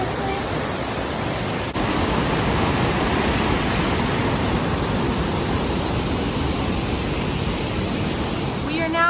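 Rushing water from a cluster of waterfalls beside a bridge off the highway in North Bay, a steady, loud broadband roar close by that fills the scene without pause, with a brief dip early on.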